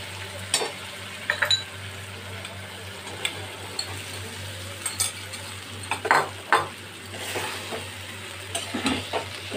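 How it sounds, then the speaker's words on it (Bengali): Fried pumpkin is stirred into a sizzling spice masala in a pan, a soft constant frying hiss punctuated by repeated clinks and scrapes of a metal spoon against the pan, with no voices. "এবারে এটাকে খুব ভালো করে আমি মিশিয়ে দেব।"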